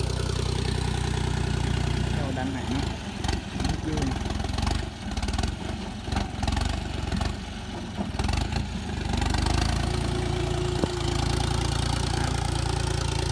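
A diesel tractor engine chugs steadily and loudly throughout in a rice field, with a voice speaking briefly over the running motor.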